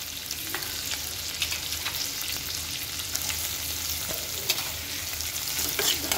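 Onion fries in hot oil in a pan for a spicy potato-tomato sabzi, a dense, steady sizzle with light spatula scrapes throughout, close and fairly loud.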